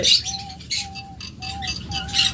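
A pair of rainbow lovebirds calls in a repeated run of short, bright chirps and squeaky tweets. The calls come at an even pace over a low background rumble, with no talking.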